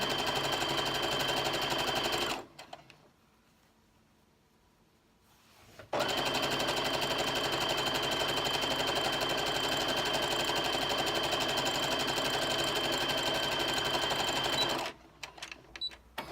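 A sewing machine stitches the hem of a cafe-style curtain valance in two long, steady motor runs, separated by a short pause, with no talking.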